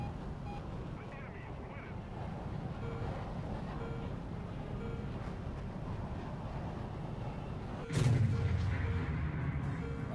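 Aircraft cannon and gunfire in a War Thunder jet dogfight on the dev server, a steady rumbling stream of shots under engine and wind noise, swelling into a louder, denser burst near the end.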